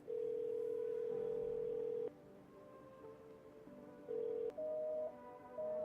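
Telephone in the No I'm Not A Human video game plays a steady dial tone, then a sequence of short keypad dialing tones, fairly quiet and with no speech.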